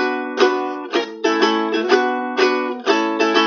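Steady ukulele strumming without palm muting, chords left ringing between strokes, a sustained bright wash that never fully stops, close and unaccompanied.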